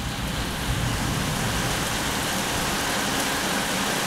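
Hail pounds a brand-new pickup truck covered in a thick blanket during a nighttime Texas storm, a dense, loud, continuous rattle and drumming of impacts with no pauses.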